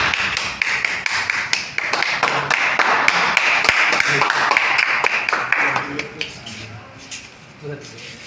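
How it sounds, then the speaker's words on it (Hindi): A crowd at a public political meeting applauds to welcome a politician, a dense, loud clatter of clapping that thins out toward the end while someone speaks over it. "तो एक बार जोरदार तालियों से स्वागत करें नेताजी"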